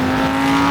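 A Lamborghini Huracan Sterrato engine held at a steady, loud drone with a strong, even tone, sounding close and unbroken for under a second.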